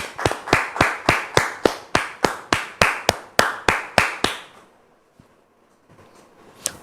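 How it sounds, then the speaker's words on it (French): Audience welcoming a guest onto a French television talk show with rhythmic, evenly spaced unison clapping, about fifteen sharp beats, loud and close, stopping abruptly into near silence. "Merci de recevoir Dame Gisèle sous vos applaudissements."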